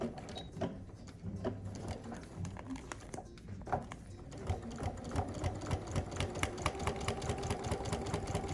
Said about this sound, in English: take it to my machine. And we're gonna stitch it on this line that we just pinned